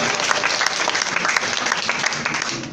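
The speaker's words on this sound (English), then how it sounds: "Give a huge round of applause for him, Mr. Ajmal Fawzan." A seminar audience breaks into a huge round of applause for a speaker being introduced, dense and loud clapping that stays even throughout.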